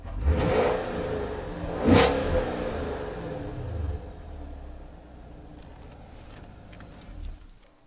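A Chevrolet Camaro SS V8 engine gives a sharp rev burst near the exhaust around the two-second mark, then settles into a rumbling idle with a smaller blip toward the end, heard close and fairly loud.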